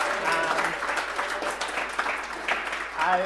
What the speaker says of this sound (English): Clap for everyone who did that.